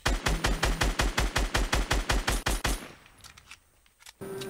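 Rapid automatic sniper fire in Fortnite Battle Royale, about a dozen loud, evenly spaced shots over two and a half seconds, then a short fade into quieter game ambience.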